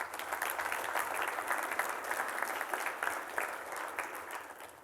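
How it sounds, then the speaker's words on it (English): Audience applause for a speaker at a live morning event, a dense, steady wash of many hands clapping that holds at full strength throughout with no talk over it. "Let's give Nathan a round of applause."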